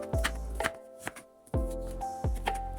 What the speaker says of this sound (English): We cut into 3 segments, then cut each segment into thin slices.